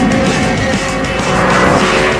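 An Audi R8 sports car accelerates hard, its engine roaring loud and close in a continuous rising wail with a faint squeal of tyres, no voices.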